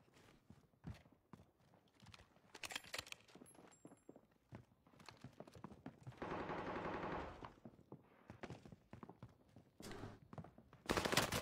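Rapid bursts of video game gunfire crackle in short volleys, with a sustained automatic burst midway and another sharp burst at the end, mixed with scattered clicks and footstep-like taps.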